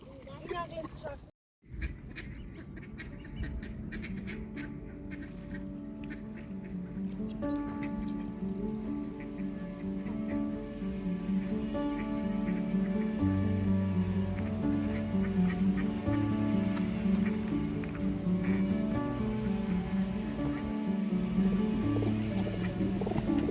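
Ducks quack and honk repeatedly over a steady outdoor hum on a waterfront with ships and waves, with people talking nearby throughout.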